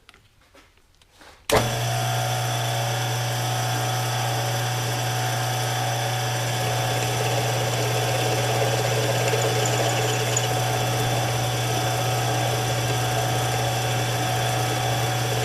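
Lathe cutter bit plunged into a steel workpiece and cross-fed toward the chuck, cutting across square notches during a Farmall Super M tractor rebuild; a steady loud machining whine with motor hum starts abruptly and runs continuously, close by.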